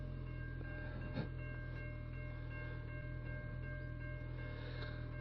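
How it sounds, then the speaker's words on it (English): An Adelaide Metro commuter train runs past at a distance with a steady low mechanical drone and faint humming tones. A soft clunk comes partway through, and the sound stays even and fairly quiet throughout. "The local Adelaide Metro Rail."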